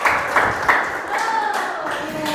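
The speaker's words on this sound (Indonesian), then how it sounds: "tepuk tangan buat kalian semua" Students in a university teaching session clap briefly, a short patter of hand claps at the start that quickly fades under a voice.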